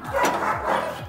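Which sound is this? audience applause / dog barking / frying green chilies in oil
dog barking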